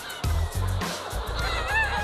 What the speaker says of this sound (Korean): 닭 울음소리가 요란한데요.